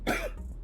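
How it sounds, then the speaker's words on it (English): One short, close cough, a sharp burst that quickly trails off into quiet, suggestive of a tickly sore throat. "Like I have that feeling I want to cough."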